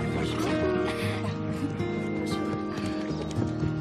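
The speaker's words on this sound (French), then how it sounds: "les apprentis cavaliers aimeraient vous présenter leurs chevaux." Horses belonging to young riders at a riding stable, with steady hoof clip-clop and an occasional whinny under a dense, continuous layer of background music and ambience.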